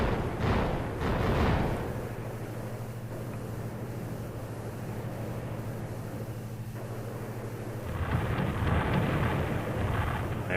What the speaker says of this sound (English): So I'm using my 150 millimeter gun